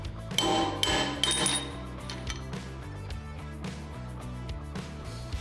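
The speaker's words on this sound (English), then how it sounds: "It's pressed on so it can be tapped off with a hammer" A few sharp metallic taps ring out near the start, hammer blows tapping a pressed-on gear off a 223cc engine crankshaft, then settle under a steady background hum.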